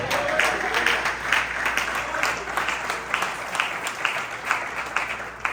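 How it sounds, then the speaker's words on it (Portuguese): Church congregation applause during a family service, a broad wash of many hands clapping at moderate level, steady throughout with a few sharper claps, heard alone in a reverberant hall. "Pode aplaudir a terra."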